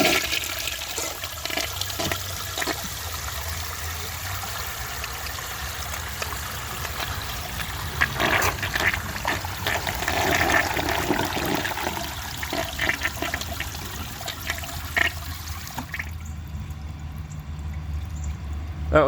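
A 1973 Eljer Hi-San low tank toilet flushes with a steady rushing and gurgling stream of water that runs for a long stretch before dropping off near the end, close and clear with no voices.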